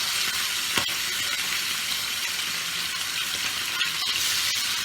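Pabda fish fry in hot oil with a loud, continuous sizzle and crackle, plus a few sharper pops, all close up.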